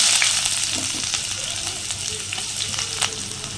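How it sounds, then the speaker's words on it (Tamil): Chopped onions hit hot oil for a goat brain podimas and fry in a loud, dense, close sizzle that eases slightly over a few seconds, with a few faint stirring knocks and no voices. "இப்போ எண்ணெய் காஞ்சிருச்சு நம்ம வெட்டி வச்ச வெங்காயத்தை போட்டுக்கலாம்"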